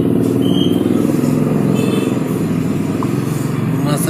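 A small chainsaw engine running on a test start after carburetor installation, with a steady, loud, continuous buzzing drone that holds level throughout.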